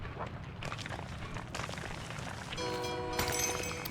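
A train arrives in the video game SteamWorld Build, with rumbling and clattering giving way to a loud sustained horn blast in the final second and a half.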